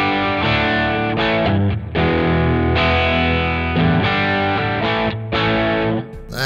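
An electric guitar played through a low-gain overdrive with a Marshall-like tone, sustained chords and notes ringing warm and lightly crunchy, close and fairly loud.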